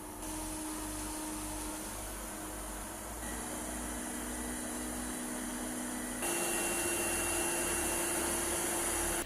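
A 360 S10 slim lidar robot vacuum runs continuously, a steady whirring motor hum with a high whine whose pitch steps up twice as the suction level changes, close and even, no voices.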